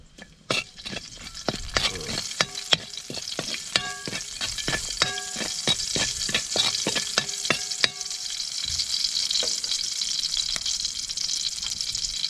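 Garlic and onion sautéing in hot reused frying oil for tilapia kinamatisan: a steady close sizzle with sharp metallic spatula clanks and scrapes against the pan, then continuous frying alone.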